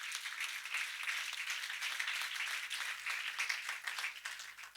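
A church congregation claps during a sermon, a steady, fairly faint patter of many hands sustained throughout with no talking.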